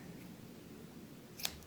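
Scissors give a single quick snip through loose excess yarn on an arm-knitted scarf, one short crisp cut near the end of an otherwise quiet moment.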